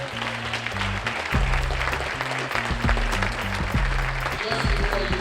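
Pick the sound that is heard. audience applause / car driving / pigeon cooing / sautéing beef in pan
audience applause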